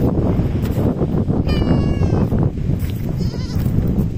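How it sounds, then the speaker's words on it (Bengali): Goats bleat in an open field shared with cattle, one clear wavering bleat standing out near the middle, another fainter call following, over a loud steady outdoor rumble. "এই মাঠে যে ছাগল গরু আছে"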